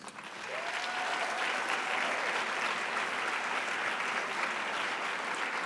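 An audience at a high school arts night applauds the parents, a steady, dense wave of clapping that rises quickly and holds at full strength.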